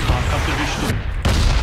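Grenade explosion in PlayerUnknown's Battlegrounds, a loud close blast with a rumbling tail, briefly cut off and then resuming, with players talking over it.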